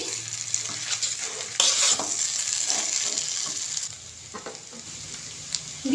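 Chowmein tossed with tomato sauce in a hot pan, a steady close sizzle and frying hiss broken by scraping stirs and clinks of the spatula, with no one talking.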